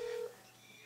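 A single telephone keypad tone sounds clearly for about a quarter second, then gives way to quiet room noise while a call goes unanswered.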